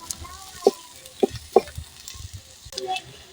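Onion, green chili and ginger fry in oil, a soft low sizzle punctuated by several sharp spatula knocks and scrapes against the pan, close by with no talk.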